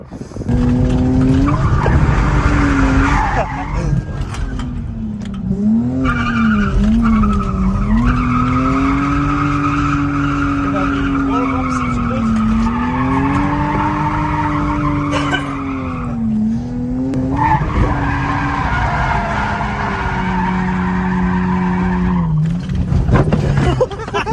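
A Lexus IS200 drifting at a Crail Raceway circuit day, with loud, sustained tyre squeal over a revving engine that rises and falls through the slides, close and continuous throughout.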